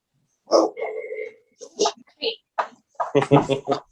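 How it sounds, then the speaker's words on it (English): Dogs barking in the background near a paramotor demonstration, a few short yips and barks mixed in with nearby talking. "I hear dogs in the background."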